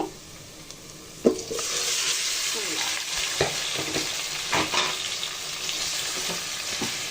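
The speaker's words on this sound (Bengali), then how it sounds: "মাংসগুলো দিয়ে ভালো করে কষিয়ে নিব" Pieces of layer chicken hit hot oil with fried onion and whole spices, starting with a sudden loud sizzle that settles into steady frying, punctuated by spatula scrapes and knocks as the meat is stirred.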